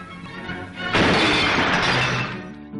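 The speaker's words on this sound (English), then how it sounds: "If you're old enough to remember the old-fashioned glass windscreens, this is what happened when you banged your nut." An old-fashioned glass car windscreen shattering, a sudden loud crash that breaks into a long, dense spray of tinkling fragments, close up and with no voices.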